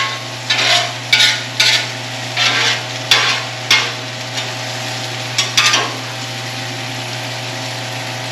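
Slices of Spam are laid into melted butter on a Blackstone griddle, each landing with a sharp burst of sizzle that settles into a steady fry under a constant low hum.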